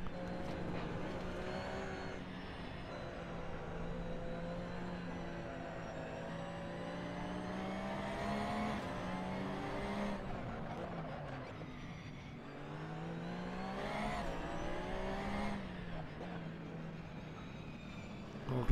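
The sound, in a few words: race car accelerating out of a corner in Assetto Corsa video game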